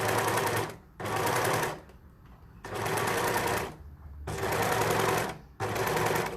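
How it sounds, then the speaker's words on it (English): An overlocker sews a rolled hem on skirt fabric in five quick, loud bursts of rapid stitching chatter, with short quiet gaps between them. "So you just overlap and stitch on top for a few stitches"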